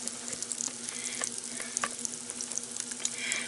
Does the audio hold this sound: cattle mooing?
no